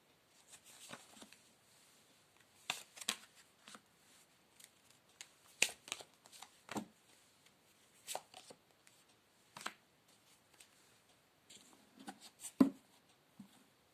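A deck of cards being shuffled by hand, a quiet close series of crisp riffling and tapping bursts at irregular intervals, with no talk.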